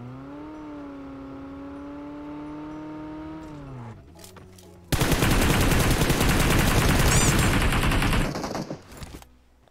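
Gunfire from below in the battle royale game PUBG Mobile: a steady vehicle engine drone gives way to a dense, loud stretch of rapid automatic shots that tapers off near the end.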